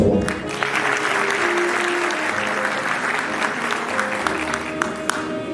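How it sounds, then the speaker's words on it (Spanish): An audience at an academic health programme applauds in a steady, dense round of clapping that holds at an even level throughout, with scattered sharper claps standing out near the end. "pido un aplauso a la distancia"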